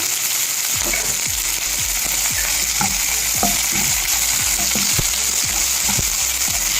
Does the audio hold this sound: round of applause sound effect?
no